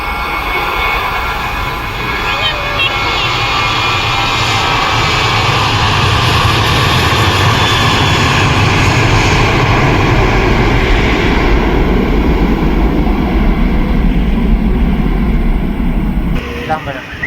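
A low, loud airplane roar fills the air near a temple as the aircraft passes overhead, building and holding steady for a long stretch before cutting off abruptly at the end.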